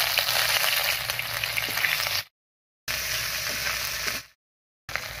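Ginger paste and green chili paste hit hot oil with tempered spices in a pan, a loud dense sizzle that cuts out twice into silence before resuming, with no one talking.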